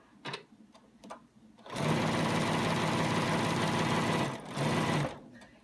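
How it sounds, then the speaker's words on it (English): Brother/Babylock sewing machine stitching a seam: a few brief needle taps, then a loud, steady mechanical whir for about three seconds that dips briefly and resumes, close up with no talking. "Lower my presser foot, and I'm going to stitch to the end of the seam."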